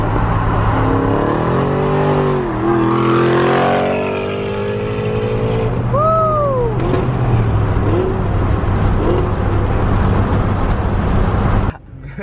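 A Shelby GT500 with Corsa Extreme axle-back exhaust revs and whines up and down repeatedly as it does donuts, tires churning, loud and close, with a voice briefly speaking over it.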